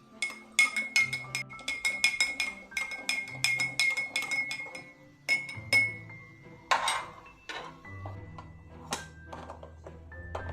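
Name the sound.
spoon stirring in a glass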